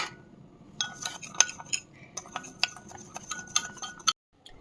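A spoon stirs coffee and sugar in a cup, giving a run of sharp, close metallic clinks at an irregular rhythm with soft scraping between them, with no voices heard.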